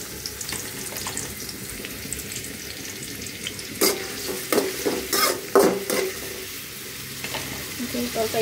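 Garlic and onion frying in oil in a kadai for a masoor dal tempering: a steady sizzle with bursts of louder crackling and scraping stirs toward the middle and end.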